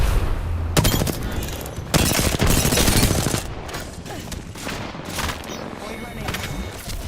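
A frag grenade goes off amid a shooter game firefight: bursts of rapid gunfire, a heavy blast, then scattered shots and crackling action continuing more quietly behind a voice.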